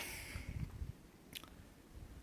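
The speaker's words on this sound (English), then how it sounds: "So I'm just gonna have a bar and drink some water." A hiker eats a snack bar on a trail break, with soft, irregular chewing and biting sounds close to the mic over faint outdoor background.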